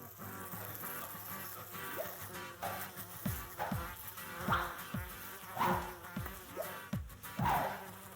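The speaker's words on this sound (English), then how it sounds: "Yes, this is a room full of flies," Flies buzzing in a room full of flies, soft whining drones that swell and fade in repeated passes, quiet and close, with no talking.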